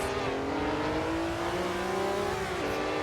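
Porsche race car in a 1967 Daytona Continental 24-hour race simulation: a steady, high engine drone with shifting pitch as it revs, loud and close, joined by other engine tones.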